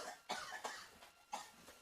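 Several short, dry coughs in a quick series, close and fairly quiet, with no talking.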